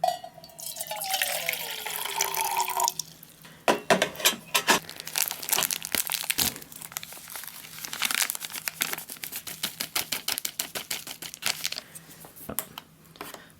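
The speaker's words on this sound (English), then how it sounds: "For the porridge, it says to add 250 milliliters of hot water." Hot water from a South African National Defence Force ration pack is poured into strawberry-flavoured porridge, following a crinkling of packaging, a soft liquid trickle and then a long run of close, sharp plastic crackles.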